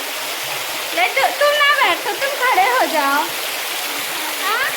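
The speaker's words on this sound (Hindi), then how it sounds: "देखिए चारों तरफ बारिश सा हो रहा है" Steady hiss of an artificial waterfall spraying water down like rain at a picnic spot, continuous and fairly loud throughout, with people talking over it.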